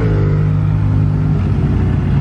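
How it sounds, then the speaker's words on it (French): The combustion engine of a Ferrari SF90 Stradale running in Monaco, a steady loud low rumble with a throbbing pulse, close and continuous throughout without talk. "Là, le moteur thermique tourne."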